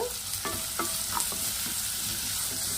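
Onions fry in a pan with a little salt added, a loud, steady close sizzle with a few clanking stirs of a utensil against the pan and no voices.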